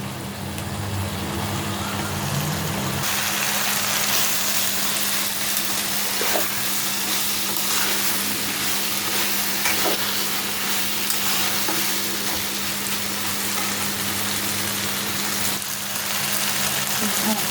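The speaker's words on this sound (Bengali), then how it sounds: "ভাজা ভাজা হয়ে গেছে মশলাটা একটু" Spice paste sizzles and fries steadily in a pan, being stirred for a curry made with ground sesame. A continuous, close, crackling hiss runs throughout with occasional scraping stirs.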